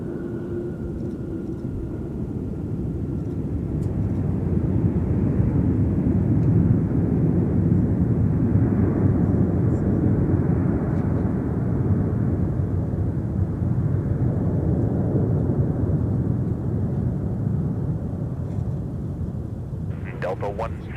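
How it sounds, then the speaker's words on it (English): A jet airliner taking off from a runway at MSP airport gives a broad, steady low roar that swells after a few seconds and holds for about twenty seconds, heard from a distance with a brief crackle near the end. "Delta 1036, turn left heading 135, runway 17, clear for takeoff"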